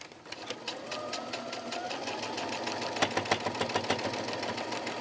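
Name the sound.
sewing machine stitching faux fur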